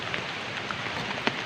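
Rain falling outdoors during a riverside picnic, a steady soft patter of drops spread evenly across the short stretch, faint and diffuse, with one sharper drop tapping near the end.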